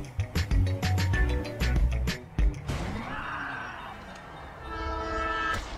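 A train horn blares in a video game, a long loud tone rising out of busy clattering and crashing game sounds, then holding steady as the rumble continues.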